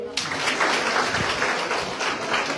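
An audience claps at a village panchayat awareness talk, a steady patter of applause from a crowd that carries on evenly for a couple of seconds.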